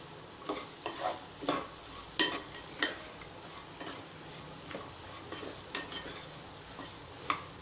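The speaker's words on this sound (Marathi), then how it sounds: "गवार आपल्याला छान मसाल्यात मिक्स करून घ्यायची आहे" Cluster beans being stirred into spices in a pan over medium heat, soft steady sizzling broken by a series of sharp spatula scrapes and taps at irregular intervals.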